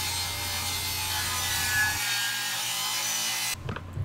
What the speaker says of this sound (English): I will take my legs and my crosscut sled and cut them down to exact length